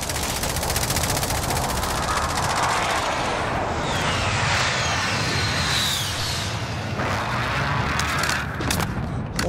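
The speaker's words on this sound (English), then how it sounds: "Allied precision airstrike incoming." Allied precision airstrike in a multiplayer shooter video game: a loud, continuous roar of jet aircraft and rapid automatic gunfire blend into a dense, sustained barrage with sweeping engine noise throughout.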